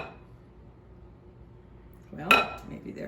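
A spoon stirs eggnog and brown sugar together in a bowl, giving a short, bright clinking and scraping burst against the bowl after a quiet stretch of low background hum.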